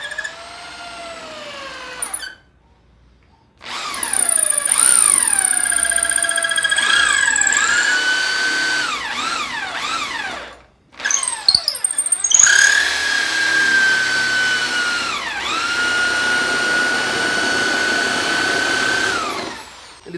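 A power-driven wooden dowel rubs and burns as it is forced through a chisel, giving a loud, shrill mechanical squeal that rises and falls in pitch, with a few brief pauses.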